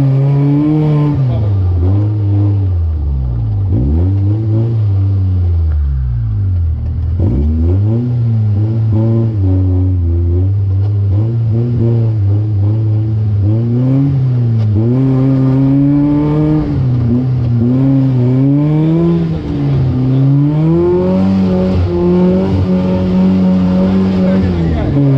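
A loud off-road rally car engine revs hard and climbs through gears as the car pulls away onto its first lap, the engine note rising and dropping between shifts while a commentator talks over it.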